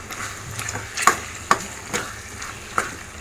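Gongura chicken curry stirred in a pan: a spoon scrapes and knocks against the metal in about five separate strokes roughly half a second apart, each a sharp clink over a faint steady sizzle, with no voices.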